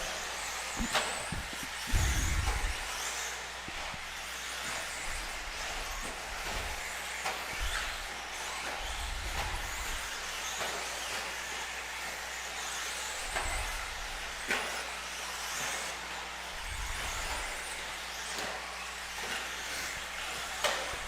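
Race cars and stadium trucks on a racetrack, engines rising and fading as they pass at a distance, with repeated low rumbling surges over a steady background din.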